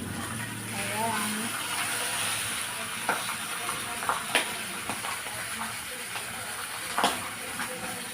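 Tilapia frying in a pan, a steady close sizzle and hiss with occasional sharp pops and crackles, while a voice talks over it.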